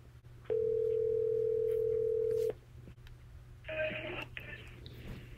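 A telephone call being placed again: a steady tone sounds for about two seconds, then quieter line noise and faint ringing or connection sounds follow, with no speech.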